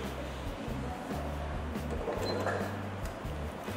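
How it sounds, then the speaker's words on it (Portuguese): A sewing machine stitching a fabric casing for elastic on a cover, its low motor hum running in short, stop-start bursts at a fairly quiet level. "Agora eu vou voltar para a máquina novamente e vou fazer mais uma costura para que a gente possa colocar o elástico."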